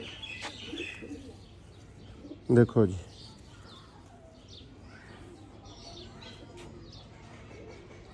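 Brief pair of low cooing calls from Sialkoti pigeons kept by a fancier, rising over steady faint background noise while someone talks nearby.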